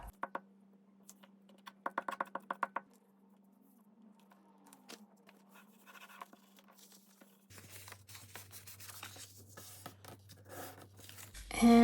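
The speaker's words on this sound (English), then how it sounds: "Let me tear this." Paper torn by hand for a liner, quick rips and crinkles near the start, then scattered faint rustles and scrapes with a steady background hum.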